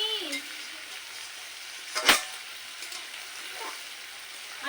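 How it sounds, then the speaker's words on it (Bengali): Mutton curry sizzles softly in a pan, a low steady frying hiss with one sharp scrape of a spoon against the pan midway and a few faint stirring scuffs, with brief voices early on. "ভালো করে আমি নাড়াচাড়া করে দিচ্ছি বন্ধুরা"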